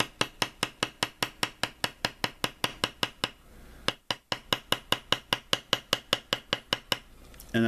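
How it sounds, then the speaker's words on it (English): A metal beveler is struck with a mallet over and over on tooling leather to bevel a border line, giving evenly spaced sharp taps at close range that break briefly in the middle and then resume at the same steady rhythm. "I just bevel the inside of that line"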